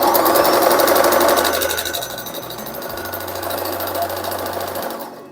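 A sewing machine stitches through layers of denim while mending jeans, running in reverse with a loud, rapid, laboring whir that eases partway through and then picks back up until it stops near the end.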